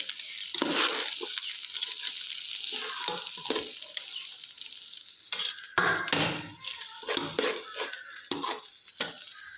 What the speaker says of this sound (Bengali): তো এটা বেশ কিছুক্ষণ ধরে নেড়ে নেড়ে ভাজতে হবে।